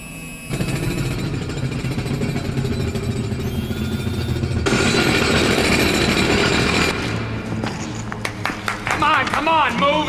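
Sonic hammers and power drives in a RoboCop film scene make a loud, continuous grinding and hammering roar with sharp changes in intensity, while voices shout beneath and over the din.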